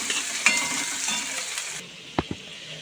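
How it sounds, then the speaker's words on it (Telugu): Onions frying on a low flame in a kadai give a steady, close sizzle that cuts off partway through, followed by a couple of soft stirring clinks. "ఇది ఇలా లో ఫ్లేమ్లో ఫ్రై అవుతూ ఉంటుంటే"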